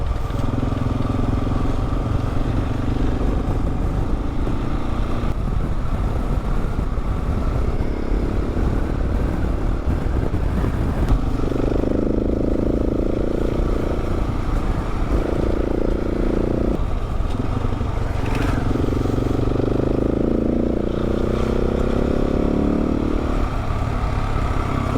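Harley motorcycle ridden by another Colorado BDR rider on a backcountry route, a loud continuous engine drone that swells and shifts pitch as it passes close over about twenty-five seconds, with wind and rumble throughout.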